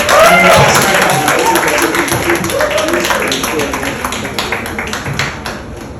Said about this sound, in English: Let's give another bigger round of applause to Jerry